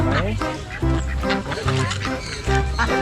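Ducks quack loudly and repeatedly in a dense, noisy flock close by, with overlapping honking calls and some voices mixed in.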